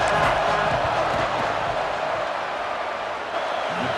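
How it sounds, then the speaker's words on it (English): Football stadium crowd at a Texas A&M versus Oklahoma game roars steadily during a fourth-down field goal attempt, a dense, loud wash of voices with no pauses. "This crowd trying to do its part to get inside the kicker's head."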